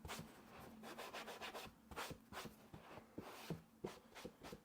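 Sandpaper rubbing by hand over a sponge-shaped piece for a custom hat, a close, steady run of short scratchy strokes in an irregular rhythm, alone with no voices.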